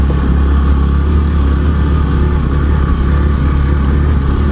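A 200cc motorcycle grinds along a rough off-road hill trail in first gear, its engine a loud, steady, close drone with no letup.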